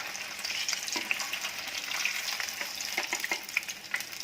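Paneer pieces fry in hot oil in a pan for chilli paneer, giving a continuous close sizzle with scattered sharp crackles and pops; no one speaks.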